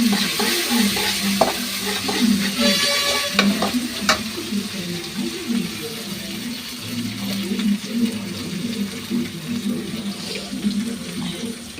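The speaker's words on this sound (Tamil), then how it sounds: "கருவேப்பிலை போட்டு" Fresh curry leaves crackle and sizzle in hot oil in a pan for Tamil egg curry, a steady frying hiss running unbroken and close throughout, with light stirring clatter over it.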